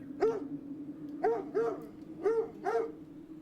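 A dog named Charlie barks repeatedly nearby, giving five short, sharp barks in uneven pairs over a few seconds with no voices.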